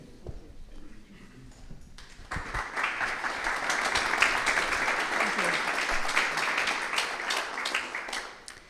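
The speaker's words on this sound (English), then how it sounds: "Thank you very much for the applause for the beginning" A conference room bursts into sustained applause after a few seconds of quiet, many hands clapping steadily at moderate volume at the start of a panel discussion.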